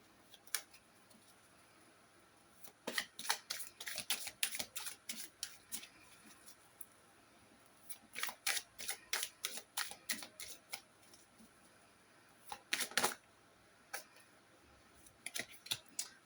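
Oracle cards are shuffled and drawn during a Pisces love-guidance card reading: faint, crisp clusters of papery flicks and snaps come in irregular bursts, with short quiet gaps between them.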